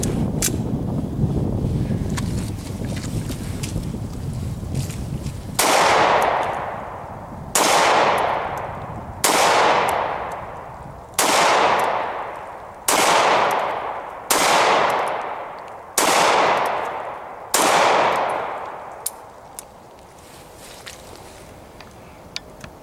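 A Hi-Point pistol fires eight loud, sharp shots, spaced about two seconds apart, each followed by a ringing outdoor echo, before everything falls quiet.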